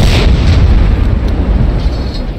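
A tank cannon firing in a tank video game on the Orsha map, a loud, heavy boom that rolls into a long, rumbling decay and stays prominent with no talk over it.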